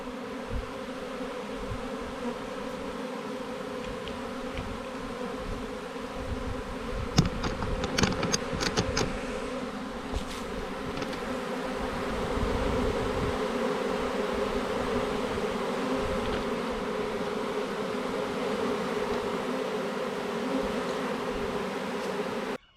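A dense, steady hum of many honey bees buzzing close by around a hive box, continuous throughout, with a few sharper clicks and taps partway through.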